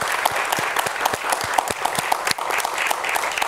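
Studio audience of a television talk show claps in a steady, rhythmic unison beat, loud and close, with no talking.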